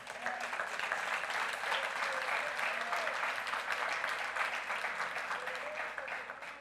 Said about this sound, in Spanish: Puede aplaudirle al Señor.